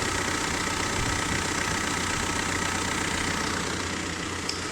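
Just after starting, a car engine out of long storage idles in a steady, continuous rumble close by, loud and unbroken, with no voices.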